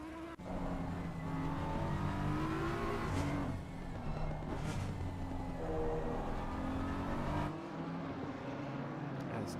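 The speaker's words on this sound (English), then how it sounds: "Big group of cars here." A big pack of race cars roars around Silverstone in a racing game, with steady engine drones shifting pitch through gear changes and passes over about ten seconds, loud and continuous.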